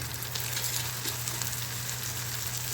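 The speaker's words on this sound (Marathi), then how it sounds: "आता हे सगळं परतून घ्यायचं व्यवस्थित आपला टोमॅटो कांदा मऊ झाला" Tomato and onion sautéing in oil in a pan for a Maharashtrian sprouted whole masoor curry, giving a steady close sizzle and fry hiss throughout with faint stirring, no talking.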